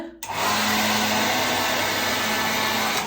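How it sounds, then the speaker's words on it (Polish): A weak hotel hair dryer blows in one steady, continuous airy roar, loud and close, with a faint motor hum underneath and no talking. "I muszę to robić hotelową suszarką, której moc równa się zero."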